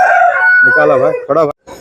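A large Aseel rooster crows loudly and close by in one long, wavering call that breaks off abruptly, followed by a brief gap.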